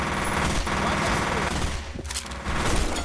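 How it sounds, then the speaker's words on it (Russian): Rapid automatic gunfire as guards and black-clad soldiers trade shots in F.E.A.R., with loud, dense bursts, brief pauses, then another burst; a voice can be heard alongside it. "Охранники Армахемы перестреливаются с черными вот этими бойцами."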